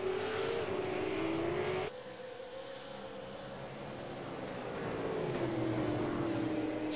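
A Supercar in the pit lane of a racing video game at a Montreal circuit gives a steady, droning engine note that holds level and shifts slightly in pitch, heard alone without talk.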